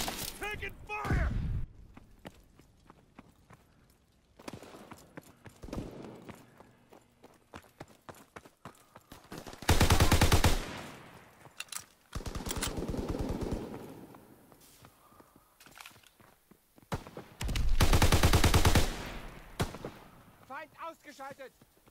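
Call of Duty: WWII gunfire erupts in rapid automatic bursts and scattered single shots, with two long, loud sustained volleys, while players shout over the battle.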